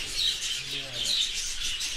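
Parrots chirp outdoors during feeding, a dense continuous wash of high, shrill tweets and calls from several birds at moderate distance, steady throughout.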